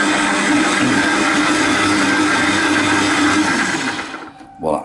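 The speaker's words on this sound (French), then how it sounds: "je vais remettre un petit coup, faire tourner le crochet" Stand mixer running at speed 2 with its dough hook kneading bread dough, a loud steady motor whir with a churning rumble that carries on evenly and then cuts out near the end.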